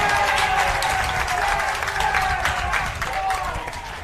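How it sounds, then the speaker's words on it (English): A home crowd at a para football championship final cheers and applauds loudly, a broad sustained roar of clapping and voices that eases slightly toward the end. "It's the biggest cheer of the day from the home crowd."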